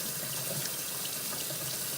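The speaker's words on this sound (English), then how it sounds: "Cool water, and we're just gonna rinse that." Cool tap water runs steadily over a block of tofu under a faucet, a continuous close broadband rushing splash with no talking.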